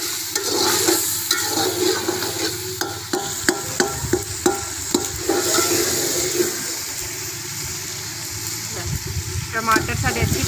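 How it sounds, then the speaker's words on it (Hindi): Tomatoes and chillies saute in a pan, with a continuous frying sizzle broken by sharp scraping clicks of a spoon stirring, loudest near the end. "देर तक असी इन्हों भुनांगे, जिनी देर तक साढ़े टमाटर गल नहीं जाते।"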